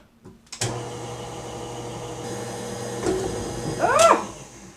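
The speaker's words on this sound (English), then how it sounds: "Turn the blender off, the mixer off." A steady electric mixer motor whirrs continuously at moderate volume while blending peanut butter cookie dough, with a louder rattling surge near the end.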